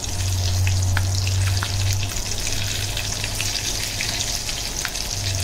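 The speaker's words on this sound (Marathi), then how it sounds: "आता मीडियम ह्याच्यावर मी फ्राय लालसर होईपर्यंत आपल्याला ते फ्राय करून घ्यायचे" Mutton samosas frying in hot oil over medium heat, a steady close sizzle and crackle with a low bubbling hum, no voices.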